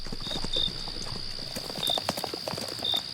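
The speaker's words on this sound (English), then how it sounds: "Sergeant, can you look at my horse's front hooves?" A horse's hooves clop at a walking pace, a steady rhythm of close, distinct hoof strikes, with faint voices in the background.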